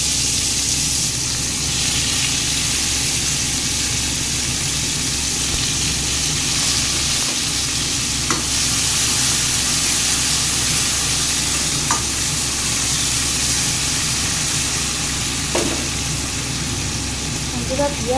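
Chili and onion fry in a pan for an aloo chicken curry, giving a continuous close sizzle with faint stirring scrapes that holds steady throughout.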